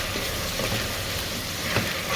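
A chili spice mixture sizzles and fries in a pan while being stirred, a soft, steady crackle with brief scraping stirs, faint and close.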